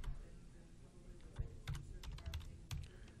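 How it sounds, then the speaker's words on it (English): Typing on a computer keyboard, with irregular clusters of sharp key clicks and a few louder taps over a quiet room background while address details are entered. "I can type a little bit of that information in"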